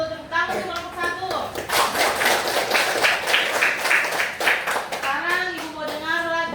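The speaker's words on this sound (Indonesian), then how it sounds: "Tepuk tangan untuk kelompok 1." A classroom of children claps for a group that has just presented, brisk close hand claps packed together, with children's voices and talking over the start and end.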